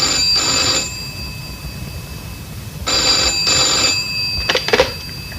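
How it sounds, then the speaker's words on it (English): A telephone rings in two clear bursts followed by a shorter partial ring, set within a recorded dialogue as someone calls a friend after an accident; no one speaks during the ringing. "George is phoning Howard to tell him"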